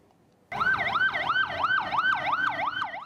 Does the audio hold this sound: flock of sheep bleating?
no